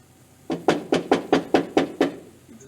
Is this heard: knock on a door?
yes